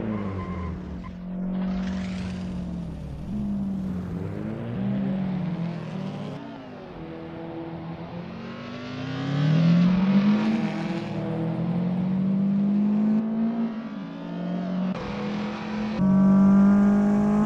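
Race cars roar through the Macau Grand Prix circuit in Assetto Corsa, with engines revving up and down through the gears, tires squealing, and several passes rising and fading over a long stretch, with no talking.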